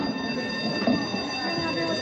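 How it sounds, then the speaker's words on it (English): A prison alarm rings continuously as a steady, shrill electric tone, with a brief bump of sound partway through over the constant drone. "Will you turn that alarm off?"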